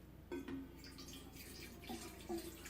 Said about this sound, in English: Pour the water inside.